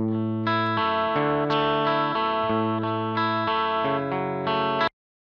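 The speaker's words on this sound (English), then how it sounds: "So now I have an electric guitar, and I have that sent to a reverb bus down here." An electric guitar plays a dry, sustained run of distorted notes and chords with the reverb switched off, each note cut cleanly before the sound stops abruptly at the end.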